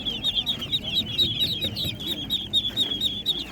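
Guinea fowl at an outdoor animal market in Ivano-Frankivsk give repeated harsh, rhythmic calls close by, with a low bustle of crowd noise underneath.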